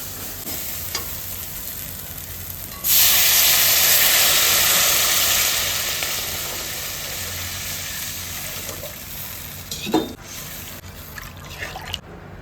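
Water is poured into hot spiced oil for a home-style Bengali koi fish curry. A loud hissing burst erupts suddenly, then slowly settles into a softer bubbling simmer, with a few utensil knocks near the end.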